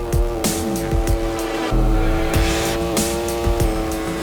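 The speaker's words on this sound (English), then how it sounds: "the dynamic sound will go hand in hand with the changes in engine revs" A motorcycle engine in the video game Ride 4 revs up and down repeatedly, with rising and falling pitch sweeps and sharp gear shifts, loud and continuous.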